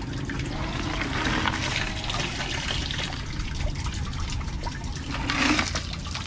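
Water pours and splashes continuously as flush water drains from a car radiator, a steady gushing drain that swells slightly near the end, with no talking.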